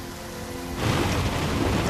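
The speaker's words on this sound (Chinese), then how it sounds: "也是大雨。" Heavy rain pours steadily, then a low rumble of thunder swells in and rolls on beneath the downpour, loud and close, with no voices.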